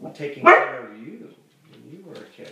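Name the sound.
dog barking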